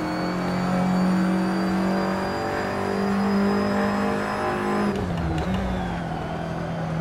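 Steady, loud turbocharged engine drone of an Audi TT Cup race car in Assetto Corsa at Montmeló, holding a sustained tone before a brief shift in pitch around the five-second mark.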